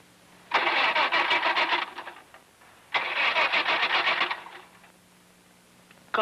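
A cold car engine cranks in two long bursts of rapid, rhythmic starter churning without catching, separated by a short pause, with a third attempt just beginning at the end.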